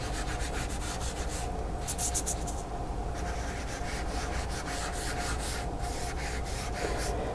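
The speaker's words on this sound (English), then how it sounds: "As I rub across it now, you can see the design." PanPastels rubbed across a card over ink, giving a soft, close, continuous scratchy rubbing with faint rhythmic strokes and brief brighter swishes, no talking.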